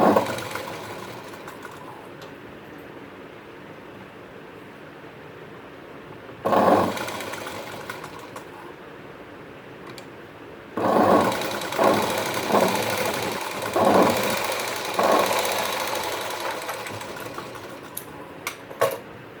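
A sewing machine stitches a blouse lining in bursts, with a quiet start, one short run near the middle, then several longer loud runs of stitching separated by brief pauses.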